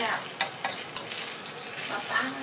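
Stir-frying in a pan while cooking a Thai chili paste made with dried tuna and fish organs: a steady soft sizzle with a few sharp utensil scrapes and clinks near the start, close and moderately loud, no talk.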